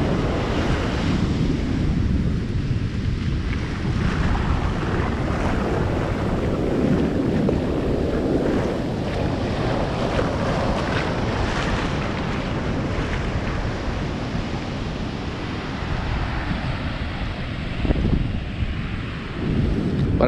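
Huge ocean waves pound Copacabana beach in Rio de Janeiro under stormy, overcast skies, a continuous loud roar of surf and crashing water mixed with gusting wind on the microphone, with no voices.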